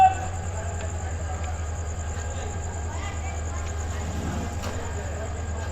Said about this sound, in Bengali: এই পাহাড়তলি থেকে ছেড়ে দিল ট্রেন